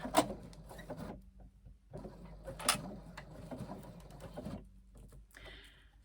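A sewing machine stitches across zipper teeth on a backpack in short, quiet bursts of rapid ticking, broken by pauses and soft handling sounds.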